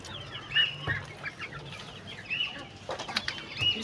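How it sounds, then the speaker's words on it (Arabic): Farmyard chickens cluck in short, scattered bursts while waiting to be fed tomatoes, the calls close by and moderately loud, with faint rustling and shuffling between them. "الفراخ"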